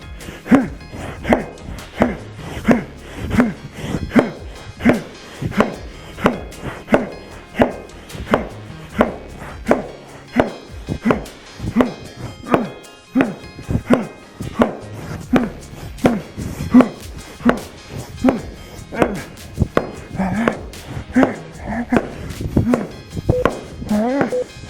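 A lumberjack drives an axe into wood with overhand chops, a steady run of sharp, loud thwacks about once a second, continuing throughout with occasional talking underneath.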